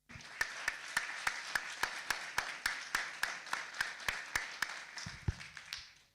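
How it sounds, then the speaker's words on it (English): Hearty audience applause for the governor at a pre-expo conference, a steady wash of many hands clapping, with a few sharp, evenly spaced louder claps standing out on top; no talking. "let us first of all give a very big hearty clap to our"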